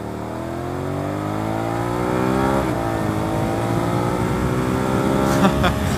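A Suzuki SV650S motorcycle engine climbs steadily in pitch as it revs hard on a test ride, loud and close, with rushing wind noise and a brief gear change midway.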